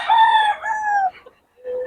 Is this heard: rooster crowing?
yes